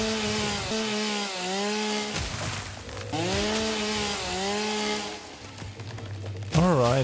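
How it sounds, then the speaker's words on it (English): Chainsaw in the video game Satisfactory, a buzzing motor that revs up and down in repeated surges, fairly loud and close, with a brief break partway through. "The chainsaw."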